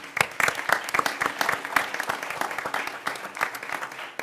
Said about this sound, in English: these guys do deserve a round of applause for what they do